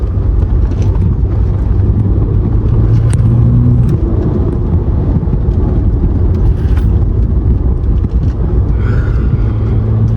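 BMW 120d E81 Pack M diesel hatchback driven hard at high revs, a loud, dense engine drone and road rumble heard steadily from inside the car with no pauses.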